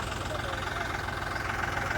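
A tractor engine runs at a steady, chugging idle nearby, a continuous low rumble with a voice talking over it.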